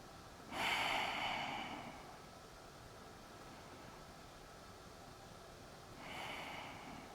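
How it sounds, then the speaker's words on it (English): Two slow, deep breaths during a seated yoga stretch, the first a long, airy inhale-exhale lasting over a second, the second softer several seconds later, both close and alone against quiet room hiss. "3 more deep breaths"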